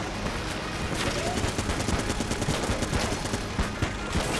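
Rapid fire raptor gun in the game Enter the Gungeon, blasting a dense, continuous stream of fast shots that stays loud and steady throughout with no pauses.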